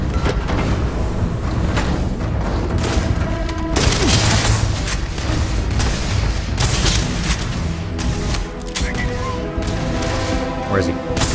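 Gunfire and booms from a sci-fi video game combat scene in Starfield, with dense, loud bursts of shots and impacts layered over a continuous noisy backdrop, under a man's speech.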